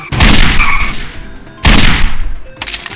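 Loud gunfire from the video game DarkRP: two close, sharp bursts of rapid shots, each tailing off into a ringing decay, the second starting after about a second and a half.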